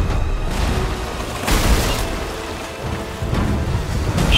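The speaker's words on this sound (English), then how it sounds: "Stop firing cannons." Cannons fire from a ship during a naval fight in Sea of Thieves, a few heavy booms rolling out over a constant rain-like wash, loud and dense with no voices.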